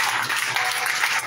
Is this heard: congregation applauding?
yes